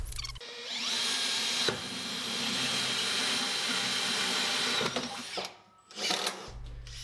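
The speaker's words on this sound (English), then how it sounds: "I was going around drilling the holes" A power drill whines steadily through metal while drilling rivet holes for a ute tray, loud and near, pausing briefly once before spinning down near the end with a short rattle.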